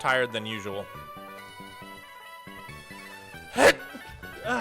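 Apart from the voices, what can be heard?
sneeze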